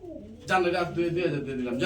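A pigeon gives a cooing call, starting quiet and then swelling louder after a moment into a close, sustained rolling coo that carries on to the end.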